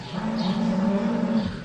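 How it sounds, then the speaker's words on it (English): Cattle on a 280-cow family dairy farm give one long, loud, close moo, a steady low drawn-out call lasting over a second and heard on its own. "280 cows here."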